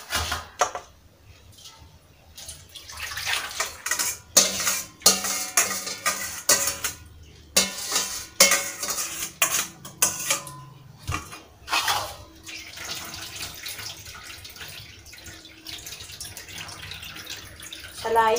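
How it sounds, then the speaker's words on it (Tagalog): Leche flan egg yolk mixture is strained through a sieve into a second container, with intermittent liquid pouring, splashing and clinks of bowl and utensils, close by and irregular. "Salain natin siya kasi para matanggal po yung mga natirang egg white."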